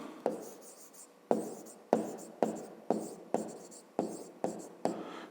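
A pen writes by hand in a maths lesson, with a series of about nine short, crisp strokes that each start sharply and fade, spaced at a fairly regular rhythm and heard close up with no talk.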